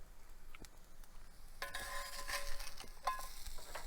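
Sausage dropped into a hot pan, a quiet background hiss swelling into a brighter, steady sizzle partway through, with a couple of light utensil clinks and no speech.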